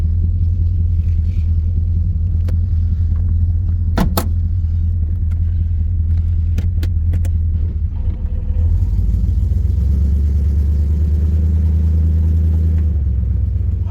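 Low, steady rumble of a 1978 Chevrolet Camaro engine while driving, heard from inside the car, loud and continuous with a few sharp clicks and a rise in road noise partway through.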